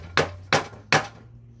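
A metal hammer strikes a Chevy differential three times at an even pace, sharp ringing clangs up close over a low steady hum.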